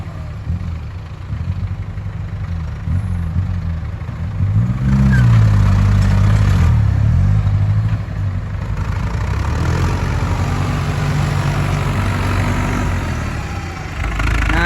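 A Ford 6810 tractor engine idles nearby with a loud, steady low rumble, briefly revving up partway through before settling back to a constant chug.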